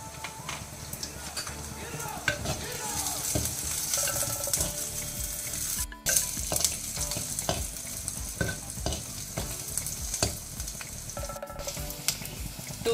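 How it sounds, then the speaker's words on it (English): Onions sizzle steadily in a hot pan while green and red chilies go in, with repeated stirring scrapes and clinks of a spoon against the pot, close and loud throughout. "When the onions turn little brown in color, you add 2 green chilies and 2 red chilies."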